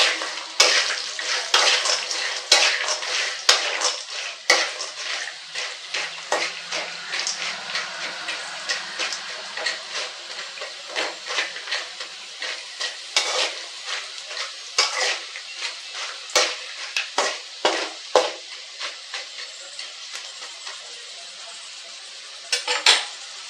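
A utensil scrapes and clinks against a pan as jackfruit seeds are stirred while frying, with irregular metallic taps and scrapes over a soft, steady sizzle and no talking.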